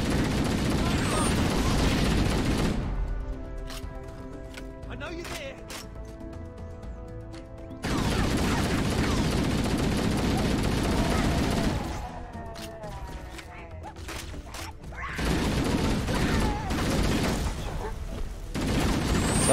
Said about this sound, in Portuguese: Só jogar uma granada, gente